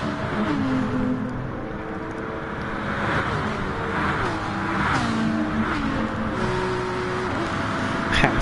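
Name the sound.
race car engines in the video game Gran Turismo Sport at Spa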